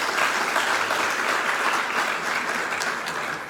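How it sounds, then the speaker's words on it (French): A crowd applauds loudly and steadily at a gathering of young engineering students, the dense clapping holding a constant level before easing slightly at the end. "il faut féliciter Monsieur De Calme et vraiment des applaudissements très"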